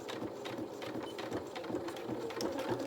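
A sewing machine runs steadily, stitching along the edge of fabric pieces for a small toy's ears, a close, continuous mechanical whir with no talking.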